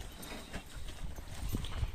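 A horse is brought out into an open field on a Brazilian cattle-round-up ranch, its hooves clip-clopping in a steady, close rhythm over outdoor background noise.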